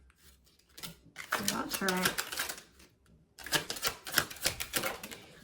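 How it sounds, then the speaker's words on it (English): Tarot cards shuffled and drawn in two bursts of quick, sharp, clicky riffling, close and fairly loud, with a voice speaking over part of it and a short pause between the bursts. "give me one more card"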